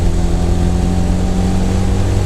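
A Ford GT500 with a rebuilt carburetor, driven at full throttle in third gear in the rain, gives a loud, steady, low droning roar with a strong harmonic hum that holds unbroken throughout, with no voices.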